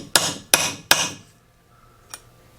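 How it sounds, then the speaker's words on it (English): A hammer drives a punch into a BMW E36/E46 shifter pin: three sharp, evenly spaced metallic strikes close up, then a pause and one lighter tap. "He's going to punch a hole in there"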